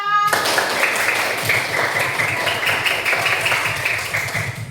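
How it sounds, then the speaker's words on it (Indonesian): Children in a fourth-grade class clap in applause, a dense, steady patter of many small hands, loud and close, with voices mixed in throughout. "Tepuk tangan buat anak kelas 4."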